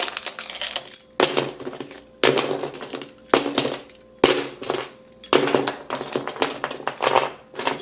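Harsh scratching strokes across the glossy back of a Jet Black iPhone 7 come in short, loud bursts separated by brief gaps, close up with sharp scraping texture.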